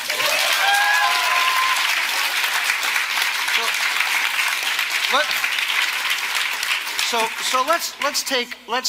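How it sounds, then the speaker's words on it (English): An audience in a Portland talk hall breaks into loud, sustained applause that fills the room, with scattered cheers and whoops rising near the end as the clapping thins out. "Can we give them a round of applause for that?"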